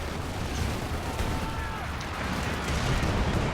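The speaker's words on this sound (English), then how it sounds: "There's white phosphorus, a lot of artillery going down." Artillery fire and white phosphorus rumble in Company of Heroes 2, a dense continuous low roar of distant blasts with no clear separate shots.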